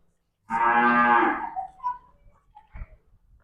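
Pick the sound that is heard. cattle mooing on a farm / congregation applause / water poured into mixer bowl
cattle mooing on a farm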